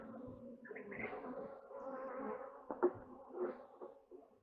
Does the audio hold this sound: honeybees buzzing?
yes